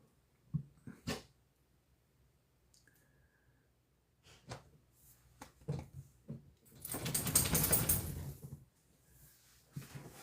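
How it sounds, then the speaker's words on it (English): A pet dog, startled awake, lets out a few faint scattered barks and whimpers indoors amid quiet stretches, followed by a brief burst of rustling noise. "One of the few times she actually barks"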